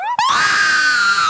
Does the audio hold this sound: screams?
yes